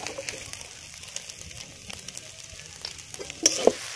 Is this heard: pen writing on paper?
no